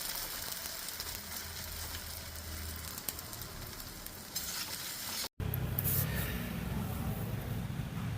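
Khagina egg mixture sizzles and crackles steadily on a tawa left warm after the gas is switched off, a dense close frying hiss that briefly cuts out and then returns a little stronger, with no talking.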